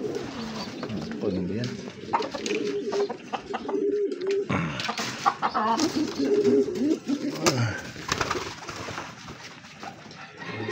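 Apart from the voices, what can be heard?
pigeons cooing on the roof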